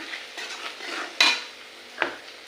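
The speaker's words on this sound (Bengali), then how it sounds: "ভালো করে পেঁয়াজটা একটু লাল লাল করে ভেজে নেবো।" Onions frying in a pan for mutton biryani, a soft steady sizzle with light scraping stirs and two sharper clinks of a utensil against the pan, close and quiet, no talk.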